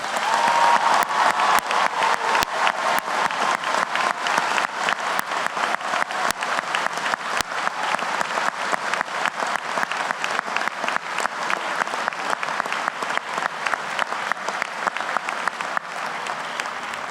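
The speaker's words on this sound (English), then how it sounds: "let us support them with our applause" A high school graduation crowd gives long, sustained applause for graduates heading into the armed forces, with dense overlapping claps and occasional sharp individual smacks holding steady for about seventeen seconds.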